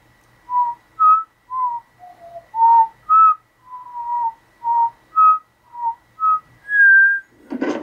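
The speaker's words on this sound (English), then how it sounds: "Sorry for the crappy whistling." A person whistles a slow, wandering tune of about a dozen distinct notes, clear and close with brief gaps between them, ending in a soft rustle.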